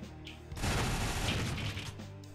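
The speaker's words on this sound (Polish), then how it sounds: "Obydwoje strzelają przez ściany." Gunfire tearing through walls in Strike Force Heroes 3, a sudden loud crackling burst of rapid shots lasting over a second before cutting off.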